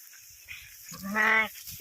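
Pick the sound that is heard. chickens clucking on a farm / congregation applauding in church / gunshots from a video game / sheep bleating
sheep bleating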